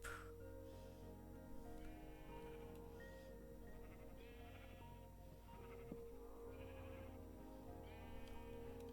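Several sheep in a video game bleat repeatedly over a steady droning background, with wavering cries that overlap at moderate distance.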